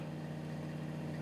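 Onboard generator on the Freedom 40/40 sailboat Laxmi, water-cooled and supplying 120 volts, runs with a steady low mechanical hum, even and unchanging, with no talk over it.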